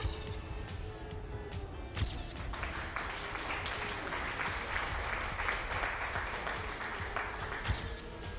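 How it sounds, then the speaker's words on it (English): Recorded applause plays back as a dense, steady wash of clapping and crowd noise, continuous at moderate loudness from start to finish, with no voices over it. "Played applause, thank you."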